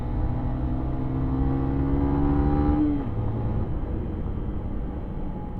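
A Yamaha YBR125, a 10-horsepower learner-legal 125 cc motorcycle, accelerates with a buzzing, rising engine note that drops sharply at a gear change, then climbs again steadily and close.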